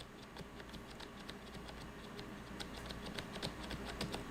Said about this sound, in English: I'm not hitting it with my finger. I'm just pushing it. And yeah, it's not silent.